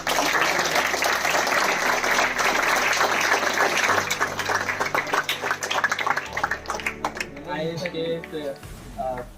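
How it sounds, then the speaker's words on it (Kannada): An audience at a Ugadi festival celebration claps together in a dense burst of applause that thins out as a voice speaks over it through a loudspeaker with a low music hum. "ನೀವು ಜೋರಾಗಿ ಒಂದ್ಸರಿ ಚಪ್ಪಾಳೆಯನ್ನ"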